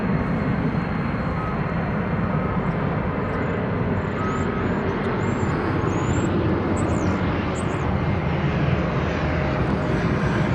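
Jet airliner at DFW Airport producing a steady, loud broadband roar that holds throughout without break, with faint chirping birds above it.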